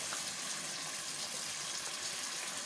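Yogurt and spice mix hits a pan of frying seekh kebab gravy, giving a steady, close, loud sizzle and hiss that holds evenly throughout, with no talking.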